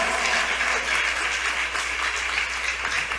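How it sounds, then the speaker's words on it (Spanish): Applause from a church congregation cheering for the Lord, a continuous full wash of many hands clapping at steady volume throughout, with no voices over it. "Dale un aplauso al Señor con todo tu corazón"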